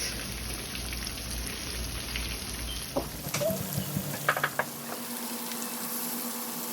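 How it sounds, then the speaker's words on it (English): Shrimp fry in a pan with a steady, dense sizzle like light rain, heard close. Partway through comes a cluster of clinks and scrapes, after which the sizzle continues more softly. "We're only gonna cook them for like 4 or 5 minutes because we know shrimp don't take long to cook"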